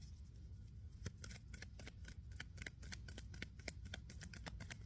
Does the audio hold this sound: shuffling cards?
yes